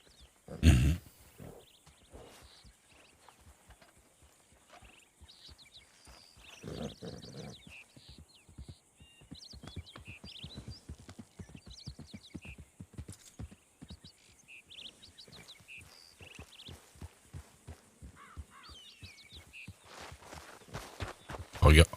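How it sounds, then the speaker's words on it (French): Hooves clip-clop steadily as horses walk on a hard surface, a continuous rhythmic clatter with birds chirping and occasional voices in the background. "C'est des chevaux."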